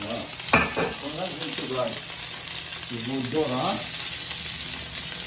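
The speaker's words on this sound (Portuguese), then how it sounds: "Eu vou dourar minhas batatinhas." Potatoes browning in a hot pan, a constant close sizzle with a sharp clink near the start, while a person talks over it.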